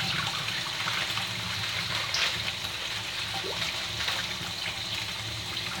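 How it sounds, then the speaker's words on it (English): Fresh spinach is rinsed under a running tap, a steady, even wash of water that carries on throughout with no talking over it. "I got some fresh spinach here. So let me rinse this off."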